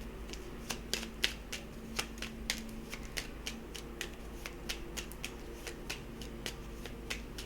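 Angel Whispers oracle cards are shuffled and drawn, a quiet run of crisp riffling snaps and flicks in an uneven rhythm, close and soft, with no talking.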